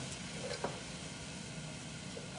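Potatoes sizzling softly in a still-warm pot, a steady low frying hiss with a brief louder crackle partway through, no talking.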